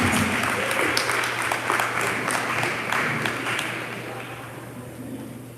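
Audience applause at the Soul Yoga Fest Resurrection 2021 awards dinner, a dense steady wash of many hands clapping that carries on throughout and slowly fades toward the end, with a low hum underneath.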